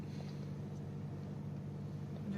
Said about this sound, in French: on accélère, le moteur va faire énormément de bruit